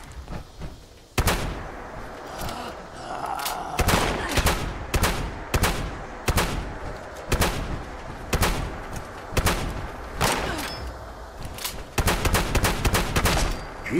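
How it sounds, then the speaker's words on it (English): Repeated gunfire from enemies in Fallout 76 crackles as sharp, fairly loud bursts in an irregular rhythm for the length of the clip, with no talking over it. "And who's shooting at me?"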